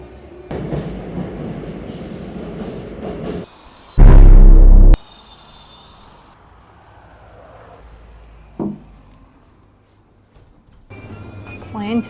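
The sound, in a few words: Moscow subway train riding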